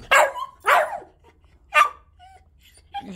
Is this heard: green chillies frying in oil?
no